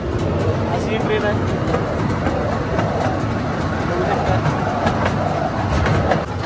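A small children's ride train at the Shivgiri temple grounds in Bijapur, heard from on board as a continuous rumbling, rattling roll with faint clicks, steady and close, under people talking.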